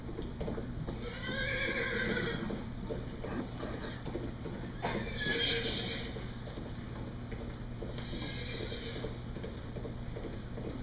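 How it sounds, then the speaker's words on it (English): Horses whinny three times, each neigh loud and clear and a few seconds apart, over a faint steady background hum. "Hark, I hear horses."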